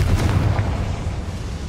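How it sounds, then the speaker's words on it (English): Confringo fire-blast spell exploding in Hogwarts Legacy, a deep booming low rumble that stays dense and loud throughout the short moment, without voices. "Confringo."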